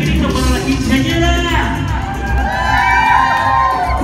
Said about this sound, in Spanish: que se escuche ese grito para la quinceañera